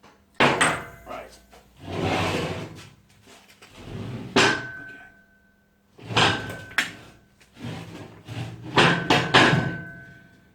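Metal hammer blows knocking roll pins out of a 4x4 transfer box during a strip-down, struck in several sharp clustered bursts, close and loud, with people talking between and under the strikes.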